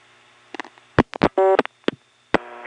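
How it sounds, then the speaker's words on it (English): A step-by-step incoming selector in a 1977 telephone exchange in Siler City, North Carolina, cuts in with a scatter of sharp mechanical clicks and a brief, steady burst of dial tone, all close and alone. "This particular incoming selector actually has dial tone sound as it starts to cut in."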